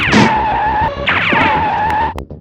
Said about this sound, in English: Rev rolling into mummies makes the same noise that the crushers in the stage do in Japan.